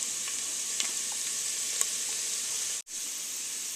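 Garlic and oregano fry in oil over a high flame, giving a steady bright sizzle with a few small pops and a momentary dropout near the end.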